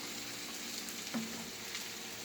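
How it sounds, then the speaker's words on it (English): Asian noodle stir fry with its vegetables simmering in a pan, a soft steady sizzle and bubbling close up, with a faint clink partway through. "this has been simmering here for about 3 minutes"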